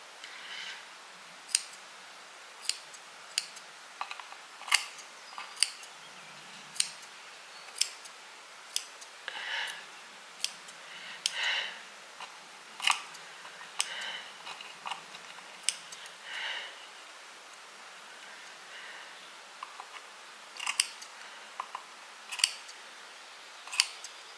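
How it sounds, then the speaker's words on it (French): Scissors snip repeatedly while trimming excess material during finishing work on a wooden house model, with sharp close clicks coming in an irregular, steady rhythm and no talking. "On va essayer d'autres ciseaux parce que là ça coupe pas terrible."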